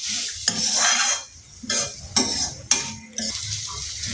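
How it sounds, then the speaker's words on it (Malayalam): Turmeric is stirred through sizzling contents of a pot for egg curry, with a spoon scraping in several short bursts over a close, continuous frying hiss. "കുറച്ച് മഞ്ഞൾപ്പൊടി ഇട്ട് കൊടുക്കാം അതൊന്ന് എല്ലായിടത്തും ആവുന്ന രീതിയിൽ നല്ലപോലെ തന്നെ ഇളക്കി കൊടുക്കാം"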